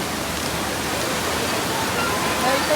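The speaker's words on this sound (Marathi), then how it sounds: "इथं बी लय फास्ट पाणी." Fast-moving river water beside a temple at Kundamala, a steady broadband rush that stays close and loud throughout, with no voices over it.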